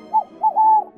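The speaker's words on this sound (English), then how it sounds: "She makes the most majestic owl sounds when she's flying." A Harry Potter Hedwig purse pet toy gives electronic owl hoots, three short tonal calls with the last one drawn out, loud and close with no other sound.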